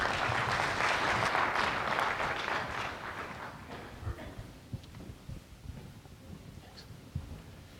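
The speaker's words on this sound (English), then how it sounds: "for your kind introduction and for that applause" An audience at a lunch presentation applauds a speaker, with steady, dense clapping that fades over several seconds into scattered last claps and a quiet room.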